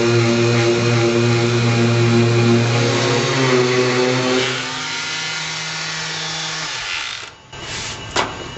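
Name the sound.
palm sander sanding car paint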